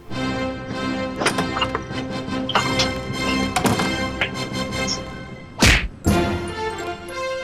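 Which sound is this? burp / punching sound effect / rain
punching sound effect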